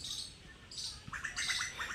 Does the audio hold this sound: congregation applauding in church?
no